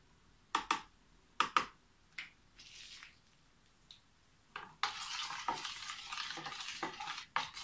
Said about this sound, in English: I will put it here and I will mix it very,